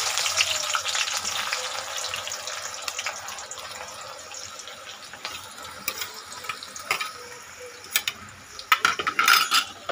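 Thinly sliced onions hit hot oil for birista for mutton Afghani: a loud, hissing sizzle at first that gradually settles, with scattered clinks and stirring knocks toward the end.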